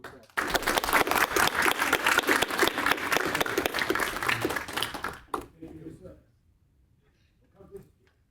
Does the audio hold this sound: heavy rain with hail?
no